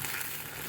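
Potatoes cook on low heat in a covered pan, giving a steady, dense sizzling hiss with no breaks, close and even throughout the short stretch.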